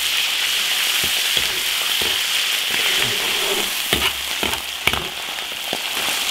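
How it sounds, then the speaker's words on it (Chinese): Ginger, garlic and chili paste are stir-fried in hot oil in a large iron wok, a loud continuous sizzle broken by scattered clacks and scrapes of stirring. "再烧点油，炒调料。"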